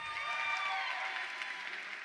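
A live audience applauds steadily at a Guild Wars 2 announcement event, a dense, continuous wash of clapping with faint tonal sounds mixed through it.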